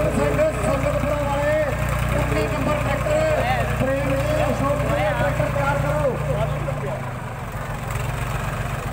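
Tractor engines idle at a tochan tractor-pulling contest in Mangala, Sirsa, where a Sonalika DI-750 faces a Swaraj 855; a steady low engine rumble runs beneath a loud announcer talking almost throughout.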